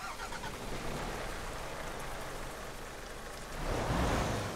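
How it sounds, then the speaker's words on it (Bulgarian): An Iveco Stralis truck engine starts up in Euro Truck Simulator 2, with a steady broadband rumble that swells toward the end, heard alone. "първото запалване на камион"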